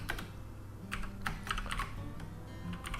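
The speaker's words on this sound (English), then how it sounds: "I got a new keyboard today too, and that's what all the clicking is. It's a super loud keyboard" Rapid, loud clicking keystrokes on a Razer Chroma V2 mechanical keyboard, irregular bursts of close typing with short pauses and no voice over them.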